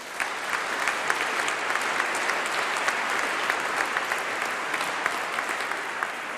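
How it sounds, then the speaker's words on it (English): Sustained audience applause at a University of Birmingham winter graduation ceremony, a dense, steady roar of many hands clapping at a constant level from start to finish. "So I think that deserves a huge round of applause."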